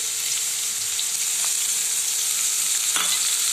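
Onion frying in oil in a pan for paneer masala, a dense continuous sizzle held at close range with a couple of faint clicks, no voices.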